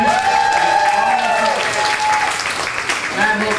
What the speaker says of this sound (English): Give Mary Ellis a big hand.